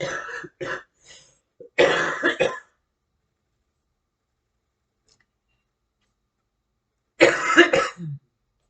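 Several harsh, close coughs come in quick bursts, then a long silence before one more heavy cough fit.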